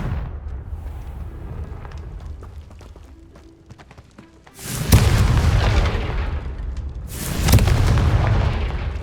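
Confringo blasting spell in the Hogwarts Legacy video game: two deep, booming explosions a few seconds apart, each with a sharp onset and rumbling decay over a quieter game background.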